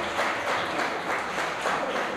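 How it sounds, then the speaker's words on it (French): A gala audience in Montréal claps loudly and steadily for about two seconds, a dense, continuous wash of hands filling the hall with no voices standing out. "On applaudit très fort."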